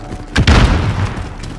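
A stun grenade goes off in Call of Duty: Modern Warfare multiplayer as a single close, heavy boom with a deep thud that rolls into a short fading rumble.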